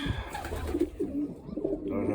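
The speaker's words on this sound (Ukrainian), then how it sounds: "голубок маленький, а?" Soft, low pigeon cooing close by, a few throaty murmuring phrases running continuously.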